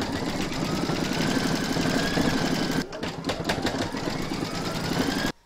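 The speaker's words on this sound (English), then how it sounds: "Pop your hoop back into your machine and stitch round number 8 to secure it." An embroidery machine stitches an appliqué round on a reindeer design in a hoop, a loud, rapid, steady mechanical whir close by with a short hitch midway before it stops.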